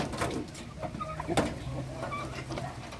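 Backyard chickens and turkeys cluck and coo close by as they are fed, short scattered calls over a low murmur, with a sharp knock in the middle.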